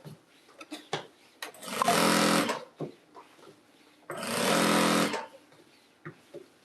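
A sewing machine stitches a jelly roll rug in two long, steady bursts of whirring, with short handling knocks and rustles of the heavy fabric in the pauses between, close and alone.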